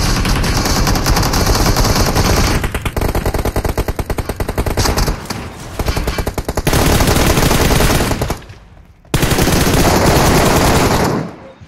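Rapid automatic gunfire from the mobile battle-royale game PUBG Mobile, loud and close, rattling in long continuous bursts with a short break near the end before firing resumes.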